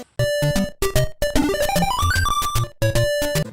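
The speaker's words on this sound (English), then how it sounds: "getting the hammer power-up sounds like this" Hammer power-up jingle from The Adventures of Lolo, a short chiptune burst of bright square-wave notes with a rising arpeggio run, played alone and loud.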